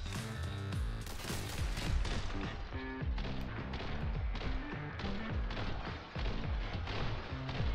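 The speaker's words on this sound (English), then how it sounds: "He's got a bloody machine gun!" Machine gun fire rings out during a shootout in the action game The Hong Kong Massacre, dense repeated loud gunshots layered over a steady pulsing music track with heavy low beats, continuing throughout.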